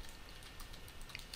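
Soft typing on a computer keyboard while writing in Microsoft Word, a quiet, irregular patter of key clicks with a few sharper taps.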